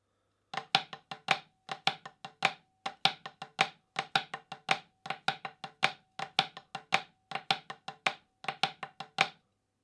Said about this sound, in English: It starts with a low flam and has this syncopated funky accent on the 1A.